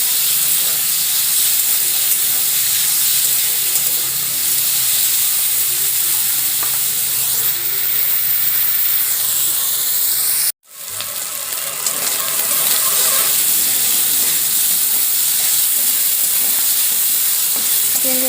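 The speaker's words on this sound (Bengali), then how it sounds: "চিংড়ি মাছ ভাজা হয়ে গেছে" Prawns frying in hot oil in a pan, with a loud, steady sizzle and crackle throughout, broken by one abrupt moment of near-silence before the frying resumes.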